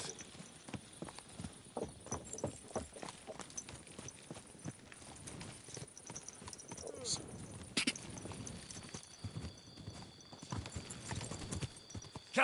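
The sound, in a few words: horse hooves clip-clopping in the video game Kingdom Come Deliverance 2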